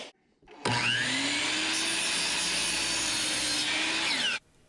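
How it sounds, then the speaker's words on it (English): A power saw cuts through a 1x2 wooden board in one continuous pass, close and loud. It spins up sharply, holds a steady high whine through the cut, then winds down and stops. "Now I'll cut that 1x2 without pocket holes at 6 inches."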